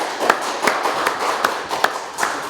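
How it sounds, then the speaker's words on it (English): Slow, evenly spaced hand claps, about seven in a row, ring out on a TV talk show set as the audience welcomes two guests. The claps are fairly faint and sparse, with no voices over them. "Please give them a big round of applause."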